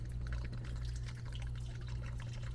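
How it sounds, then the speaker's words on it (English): Diesel fuel draining from the fuel filter housing of a second-generation Dodge Cummins truck into a drain pan, a steady liquid trickle and splash over a low, constant hum. "I'm going to open the petcock, or the drain,"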